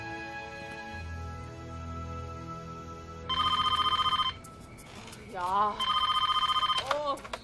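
Telephone ringing indoors in two loud electronic trilling bursts, separated by a short gap in which a voice briefly speaks, with soft background music beforehand.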